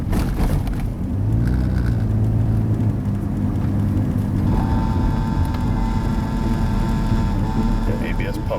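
An ABS pump runs on a Saturn S Series car with an unwanted ABS activation fault, a loud continuous whirring drone with a low rumble, steady throughout and joined later by a faint high whine.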